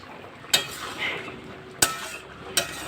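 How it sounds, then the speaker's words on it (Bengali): A spoon scraping and clinking against a pan while curry with garam masala is stirred, with three sharp metallic knocks spaced about a second apart and faint sizzling between them. "গরম মশলা অ্যাড করে এবার একটু নাড়িয়ে নেব"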